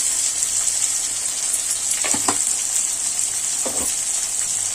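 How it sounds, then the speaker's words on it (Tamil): Constant bright sizzling from a pan of vegetables with turmeric and salt, with two brief scraping stirs cutting through the steady hiss, nearby and without voices. "போட்டு நல்லா வதக்குங்க."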